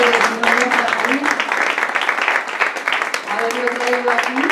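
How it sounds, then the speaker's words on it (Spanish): Audience at a poetry evening clapping in a room, a fairly loud, continuous patter of many hands running under a voice as he keeps talking over it. "pido un aplauso para él"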